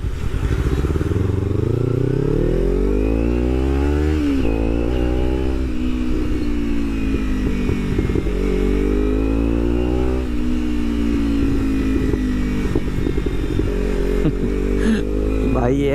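Kawasaki Ninja 300 twin-cylinder motorcycle with a modified carbon-fibre exhaust, revving loudly and close by with rising and falling engine pitch throughout, under someone talking.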